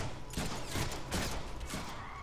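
Gunfire in the Deadpool video game: a few quick, sharp bursts of shots spaced roughly half a second apart, fairly faint with no talking.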